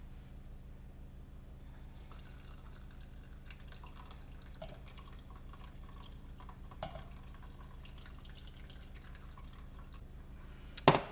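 Liquid draining and pouring from a roasting pan of tomatoes and onions, faint irregular drips and trickles over a quiet kitchen hum, ending in a brief louder splash or clatter.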